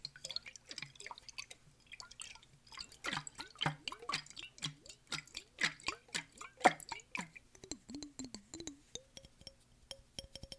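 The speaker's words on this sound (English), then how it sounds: "Got the water jar." Water dripping into a water jar as an ASMR trigger: a run of distinct plinking drops, close and crisp, quickening in a rhythmic series, then a few softer gurgles and fading drips.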